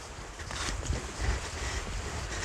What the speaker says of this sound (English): listening to the wind rustle